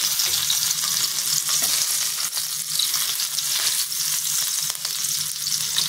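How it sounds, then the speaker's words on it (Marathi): Hot oil in a flat tava sizzles loudly and steadily for a fish fry, a dense continuous crackle with a few faint scrapes underneath and no voices. "इकडे तेल तापत ठेवलेले आहे तव्यामध्ये"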